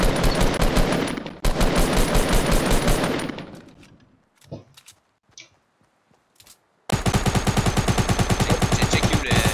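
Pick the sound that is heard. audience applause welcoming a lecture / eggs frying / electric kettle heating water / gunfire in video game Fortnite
gunfire in video game Fortnite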